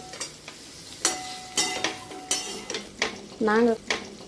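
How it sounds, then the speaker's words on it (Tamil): Onion and green chili sautéing for brinjal chutney, with a spatula scraping and clanking against the pan in short irregular bursts over a light sizzle, close and fairly loud, and a brief squeak near the end. "இதில் அப்படியே போட்டு வதக்க வேண்டியதுதான்"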